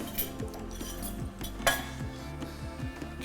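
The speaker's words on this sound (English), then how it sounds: "And then just mix it all together." A spoon stirs minced chilli with passata and vegetable stock in a pan, giving repeated close scrapes and clinks against the metal with a light background hum.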